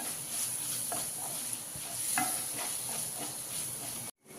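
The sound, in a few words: egg curry base sautéing in pan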